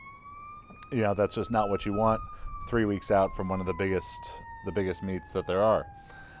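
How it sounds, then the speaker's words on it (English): An emergency vehicle siren in Costa Mesa wails steadily in the background, its tone slowly falling in pitch, while someone talks continuously in the foreground. "Sorry about the siren in the background."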